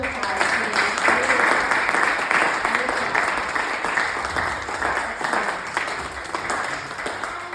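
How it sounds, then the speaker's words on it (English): Audience at a 2024 candidates forum applauding, a dense steady wash of clapping that holds for several seconds and slowly thins, with a voice faintly present beneath. "let's have a round of applause, please"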